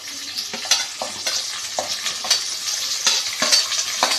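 Peanuts, onion and chillies frying in hot oil while being stirred for shavige uppittu, a close bright sizzle broken by repeated scraping stirs of a spoon against the pan.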